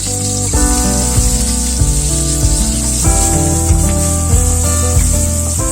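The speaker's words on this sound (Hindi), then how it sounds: "अब हम 1 प्याज स्लाइस कटा हुआ डाल रहे हैं फ्राई करने के लिए।" Sliced onion fries in hot oil in a kadai, giving a constant sizzling hiss that runs beneath prominent background music, with no voices.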